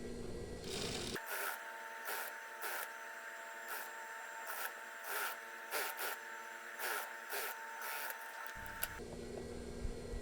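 A sewing machine runs while stitching the lining of a batik shirt, giving a steady mechanical whir broken by regular clicking bursts. The sound is close and continuous for most of the stretch, with no talk over it.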